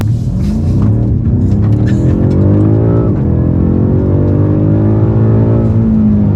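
A BMW M5 Competition pulls hard from a start out of a bend, its engine note loud and close, climbing steadily through the revs with a brief shift dip before rising again.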